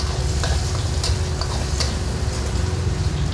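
Eggs and pad kra pao frying in a pan, a steady close sizzle with occasional stirring clicks and scrapes throughout, no voices.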